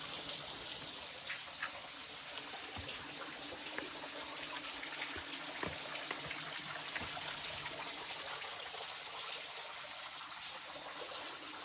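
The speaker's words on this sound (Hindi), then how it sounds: "साल भर गिरता रहता है पानी साल भर।" A year-round waterfall at the Keri Mahadev temple in Ratapani Wildlife Sanctuary gives a steady, rushing hiss of falling water, continuous and fairly even throughout with a few faint knocks.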